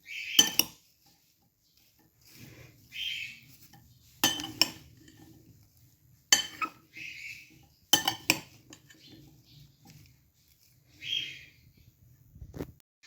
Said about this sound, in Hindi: अब मैं करने लगी इनको मिक्स सब फ्रूट्स को।